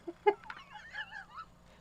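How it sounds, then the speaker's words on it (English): Soft clucking and murmuring from nearby hens, a few short calls followed by quieter warbling, with no talking. "Can you hear my chickens?"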